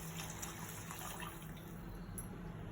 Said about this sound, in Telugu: మొత్తం వాటర్ అంతా పోసేస్తాను